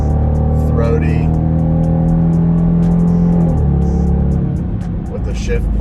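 A 2022 Dodge Durango R/T engine revs with a throaty, droning tone that holds steady and then drops in pitch partway through, heard up close under a talking voice.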